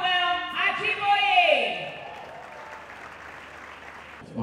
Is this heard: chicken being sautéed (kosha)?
no